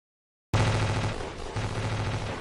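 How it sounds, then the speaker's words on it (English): Alien ship cannons in a 3D animation open fire on buildings after half a second of silence, a loud rapid rattling burst of shots that continues densely to the end. "From the monstrous vessels, cannons of fire erupted, shooting at the fragile buildings of the Vexians"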